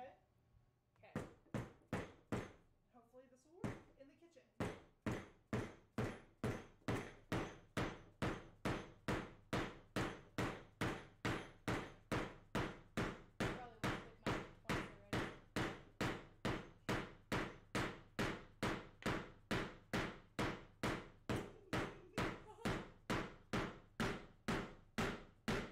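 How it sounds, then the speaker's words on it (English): A hammer drives a homemade copper hose guide down onto its threads, dozens of evenly spaced metallic blows ringing out in a steady rhythm close by, after a few slower opening strikes. "So I am going to hammer this guy down in there."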